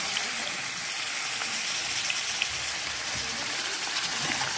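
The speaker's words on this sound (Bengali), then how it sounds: "পেঁয়াজের সঙ্গে মাংসটাকে দিয়ে ভাজবো।" Chicken pieces fry with fried onion in a pan, producing a soft, steady sizzling hiss with light crackle that holds evenly for a few seconds, with nothing else heard.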